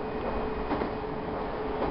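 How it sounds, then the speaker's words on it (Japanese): A train passes through Kakidaira station on the Iida Line, a steady broadband rumble of running rail noise sustained at even loudness throughout, with no voices. "列車は柿平駅を通過。"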